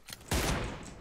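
A burst of rapid gunfire in PUBG Mobile, a sharp loud onset followed by a dense rattling volley that decays over about a second, with no talking.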